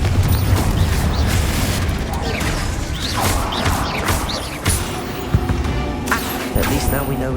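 A Confringo spell blast in Hogwarts Legacy inside a catacomb tomb, a loud booming burst followed by crashing impacts and clattering debris, with some voices in the mix.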